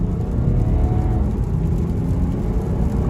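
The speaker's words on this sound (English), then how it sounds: "I'm going to do a little acceleration run here" Steady engine and road noise from a 2018 BMW 540d xDrive G30 accelerating, a continuous low rumble with a faint rising whine, close and even throughout with no talking.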